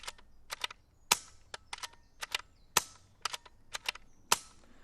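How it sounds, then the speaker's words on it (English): A BSA R-10 air rifle fires repeatedly, giving a series of sharp, snappy cracks in irregular succession, each crisp and brief against near silence. "I'm then going to fire the gun about 6 times, and what we should hear is the sound of those shots getting quieter"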